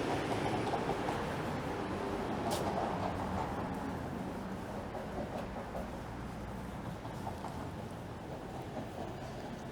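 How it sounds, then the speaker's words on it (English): A Toronto streetcar rolls into a stop on a city street, a continuous rumbling of steel wheels on rails that gradually eases, with a brief sharp squeal near the start. "I believe my streetcar is rolling in just on time."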